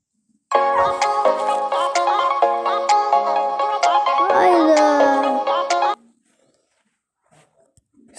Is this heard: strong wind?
no